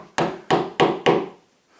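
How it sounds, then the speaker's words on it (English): Four hard, evenly spaced chisel strikes cutting an indentation into a wooden shed door, each a sharp woody knock with a short ring, close and loud, followed by silence. "you're doing a chisel indentation like this"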